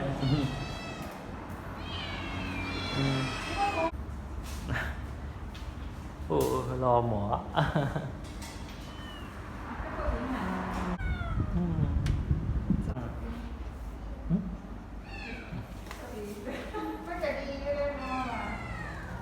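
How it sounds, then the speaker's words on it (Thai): A kitten meows repeatedly in high, wavering cries at a vet clinic, close by, with people talking over and between the calls. "เอาแมวเด็กมาด้วย"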